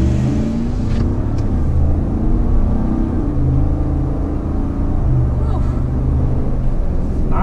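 A Chevy Tahoe RST engine and exhaust give a loud, steady low rumble from inside the cabin, with slight surges in pitch as it revs and pulls along.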